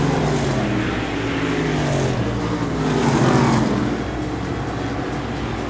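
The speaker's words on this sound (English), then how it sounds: "you can see that Eddie Whitcomb's got himself a fast race car, throwing it in hard into turn number 3" A fast race car driven hard into a turn on a short track speedway, its engine droning loudly and steadily with a slight rise in pitch, heard alone without talk.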